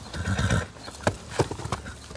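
An Argentinian gaucho's horse, close by, with clip-clop hoofbeats and a short whinny at the start, followed by a few sharp hoof strikes.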